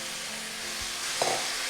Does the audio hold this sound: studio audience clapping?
no